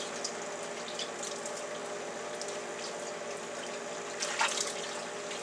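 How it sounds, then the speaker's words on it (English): Water trickles and splatters steadily as a wet deer hide is wrung out by hand during tanning, a soft continuous drip and splash with a brief louder squeeze near the end. "We're just going to wring this thing out."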